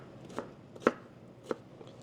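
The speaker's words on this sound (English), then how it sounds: "we're done chopping up our vegetable" Potato and vegetables cut with a knife on a board while making Korean doenjang jjigae soybean paste stew: a few sharp, separate chopping thuds at an irregular pace, close and fairly quiet, with no talk.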